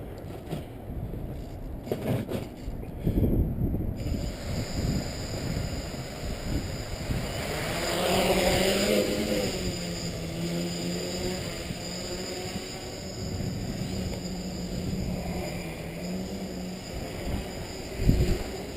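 A Multiwii tricopter multirotor on 4S power lifts off and flies in gusty wind outdoors, its steady rotor whine rising and shifting in pitch as it climbs, with wind buffeting and occasional thumps.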